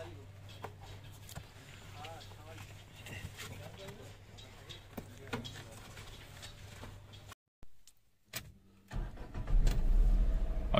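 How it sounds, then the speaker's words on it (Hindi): A Renault Kwid hatchback starts after a service with a new air filter, then idles at low fuel; a steady engine hum runs under someone talking, cuts out briefly, and returns louder and rumbling. "अब देखिए, मैं गाड़ी स्टार्ट कर चुका हूं,"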